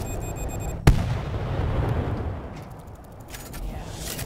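An explosion in the zombie shooter World War Z, likely a planted claymore, goes off as one sharp, loud blast. A long rumbling tail and scattered game sounds follow.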